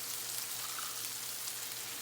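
Whiting fish pan frying in oil, a steady, dense crackling sizzle that fills the whole moment at close range, with no voices over it.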